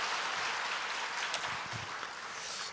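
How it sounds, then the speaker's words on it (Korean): A church congregation claps together in a dense, sustained round of applause that stays strong for the whole brief moment and tapers only slightly at the end. "하나님께 영광의 박수 돌리겠습니다."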